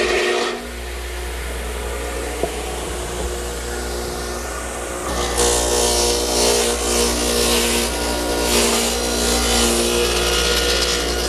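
A radial arm saw cutting wood, swung 20 degrees past zero for an opposing angle cut on a picnic table project: a steady loud motor whine runs throughout, swelling into a harsher, louder cutting roar about halfway through.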